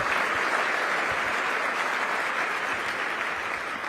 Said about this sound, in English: Please give Elliot and his whole team a big round of applause